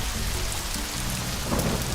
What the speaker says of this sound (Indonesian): langit menjadi mendung dan angin bertiup, serta hujan lebat mulai turun